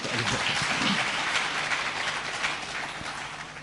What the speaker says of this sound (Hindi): एक बार तालियां बजाइए आप लोग।